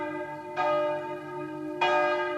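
A church bell dating from 1623 in a tower belfry at Lorgues strikes twice, each clang ringing out with a long humming decay that overlaps the next, fairly near and alone.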